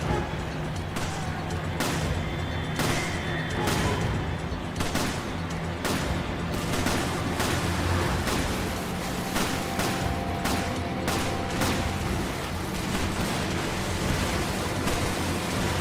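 Video game gunfire from Resident Evil 5, a dense stream of loud sharp shots and bursts over a constant noisy backdrop, running nearly throughout at steady intensity.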